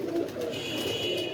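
Pigeon cooing close by, a low throaty warble repeating in soft pulses over a faint steady background, with no one speaking.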